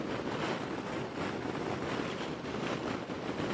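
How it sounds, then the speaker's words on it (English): Strong wind roars steadily across the microphone, a dense, rushing blast that never lets up, with no voices. "It's hard to really tell about the breeze because it's so windy out."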